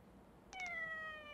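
In the video game Yakuza 3, a cat gives a single short, clear meow, quiet but distinct over a low hum of background ambience.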